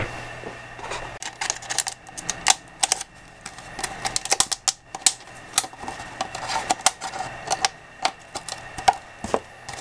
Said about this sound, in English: Now I drill a 1/4-inch hole.